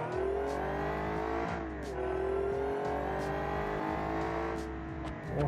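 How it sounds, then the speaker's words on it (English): A powerful supercharged 1970 Italian sports car engine roars close by, revving up through the gears with a high supercharger whine riding over the growl. "oh, listen to that supercharger,"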